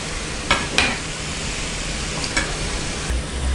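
Ragi pakoda fritters frying in hot oil, a steady close hiss with faint crackle and a few brief sharper pops, no voices.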